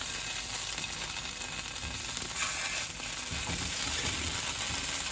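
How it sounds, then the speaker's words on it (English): Plant-based lentil cheese slices frying in a pan, a steady close crackling sizzle with faint scraping and shifting sounds throughout. "just fry them until they're golden, and then I'll flip them"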